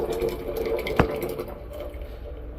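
A glass of water pours into green rice porridge (kanji) flavoured with cumin and pepper, a steady close splashing fill with one brief sharper splash partway through.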